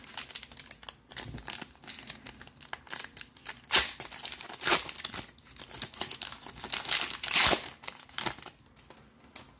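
Prizm NASCAR trading card packs being torn open, with bursts of crinkling foil wrapper and tearing that rise and fall irregularly, close and fairly quiet, without talk.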